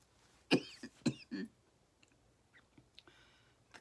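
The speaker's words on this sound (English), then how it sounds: "cough is still not going away" A few sharp coughs close by, two strong bursts and a third weaker hack in quick succession, then quiet rustling and small clicks.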